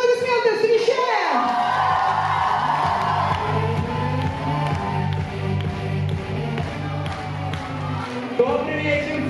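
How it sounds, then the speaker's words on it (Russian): An audience at a camp counselors' KVN comedy show whoops and cheers loudly, then settles into rhythmic clapping over a thumping musical beat, with voices calling out through the noise. "Ваши аплодисменты встречаем!"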